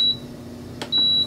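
An air fryer beeps as its settings are switched, giving a short high electronic tone, then a brief tap, then a longer steady beep, close and clear over a low hum.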